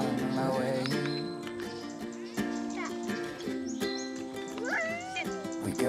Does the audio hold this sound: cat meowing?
yes